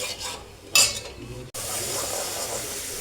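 A spoon stirs a pot of thick dal batter in a home kitchen, with soft scraping and sloshing, one sharper clink near the start, and a brief break before steady stirring resumes.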